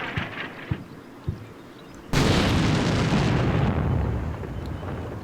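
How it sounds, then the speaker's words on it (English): Enemy artillery shells burst near a tank in Combat Mission Black Sea: a few faint thuds give way to one sudden loud blast followed by a long rumbling roar that slowly fades. "The enemy artillery is zeroing in on our tank over there."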